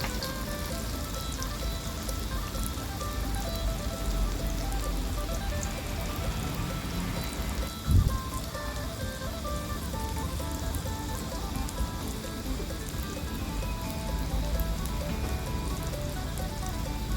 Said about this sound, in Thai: กระทะร้อนแล้วนะคะ เราก็เอาไข่ชะอมลงไปทอดเลยนะคะ